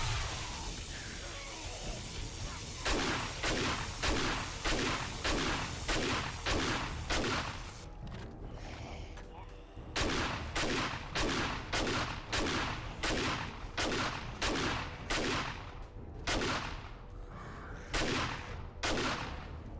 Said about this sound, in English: This is the slug shotgun